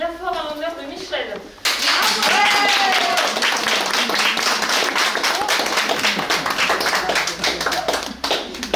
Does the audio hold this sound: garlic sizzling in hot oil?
no